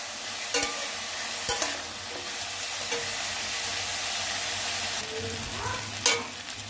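Beto shak greens sizzle steadily in a hot pan with salt while a spatula stirs them, giving a few sharp scraping clacks over the constant close frying hiss.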